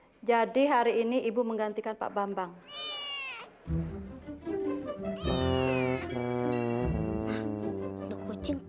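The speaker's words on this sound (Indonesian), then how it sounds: "Ada kucing kok ada di sini?" A cat meows several times in high, drawn-out cries, mixed with someone talking and brief chimes.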